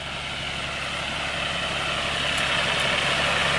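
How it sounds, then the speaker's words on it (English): A water-pumping engine runs continuously at close range, a steady, dense low rumble with broadband hiss, unchanging throughout. "This is his engine. Right, pumping water."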